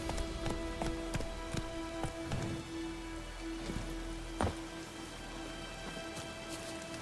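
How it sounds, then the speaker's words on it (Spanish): Rain falls in The Witcher 3 video game as a quiet, steady hiss dotted with sharp drip taps, over a faint constant hum and no voices. "Se vino la lluvia."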